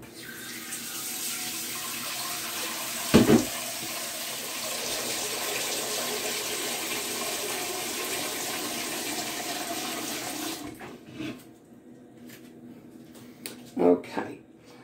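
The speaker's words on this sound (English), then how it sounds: "So I'll take that pan over to the sink and I'm just going to sort of half fill it." Kitchen tap running water into a large cooking pan at the sink, a steady rushing flow lasting about ten seconds with a couple of brief knocks, then stopping and leaving quiet handling sounds.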